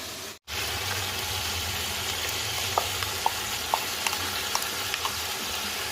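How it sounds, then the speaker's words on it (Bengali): Chicken pieces frying lightly in a pan give off a steady close sizzle, with a few small pops and utensil clicks over the second half. "এখানে মাংসটা বসিয়েছি করাতে পুরো ভাজবে না হালকা একটু ভেজে দিচ্ছি"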